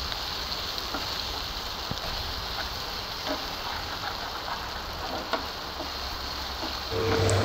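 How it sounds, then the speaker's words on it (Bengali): Sugar, garlic, bay leaf and onion hiss in hot oil for a fish curry, a constant rain-like sizzle with occasional light clicks, moderately loud and unbroken. "তেল গরম হলে এতে চিনি, রসুন, তেজপাতা আর পেঁয়াজ দিয়ে ভালো করে নেড়ে নিতে হবে"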